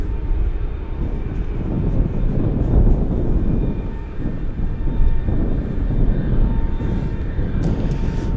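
An Atlas Air cargo jet idles at Anchorage airport in gusty wind, giving a loud, steady low engine rumble with wind buffeting, heard alone without talk.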